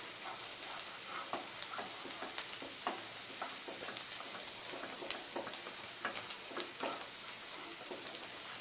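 Onion frying in a pan, a steady soft sizzle with scattered crackles and pops, close and fairly quiet, no voices.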